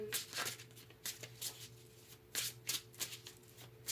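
Tarot cards are shuffled by hand, with quick, crisp riffling bursts and soft flicks repeating close by in an otherwise quiet room.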